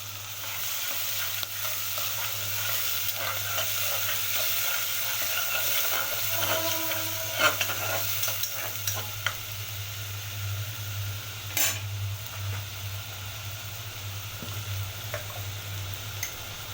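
Garlic paste sizzles and fries steadily in a pan, a soft continuous crackle with occasional stirring clicks and scrapes, the start of a shrimp and spinach dish.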